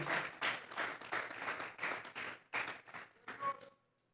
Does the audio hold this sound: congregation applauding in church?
yes